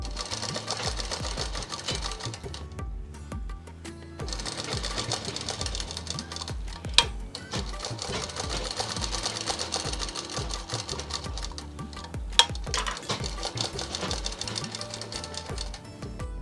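A sewing machine stitches the fitting seam of a blouse with its sleeves already attached, in a tailoring lesson. It makes a steady close whirring in long runs with brief pauses, and no voices are heard.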